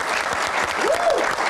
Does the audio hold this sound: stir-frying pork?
no